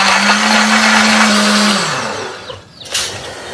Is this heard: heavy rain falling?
no